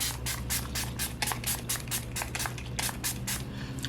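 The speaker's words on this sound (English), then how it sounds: "I'm going to give my face a spray with my Milani Make It Last" A rapid series of short, hissing spritzes from a Milani Make It Last setting spray bottle onto a face, about a dozen quick pumps in a steady rhythm.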